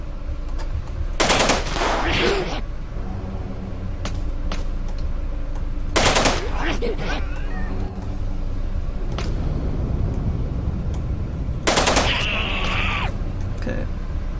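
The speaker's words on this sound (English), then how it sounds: "The assault rifle." An assault rifle fires in the video game Nuclear Outrun in three loud, sharp bursts spread across steady background game noise and engine drone.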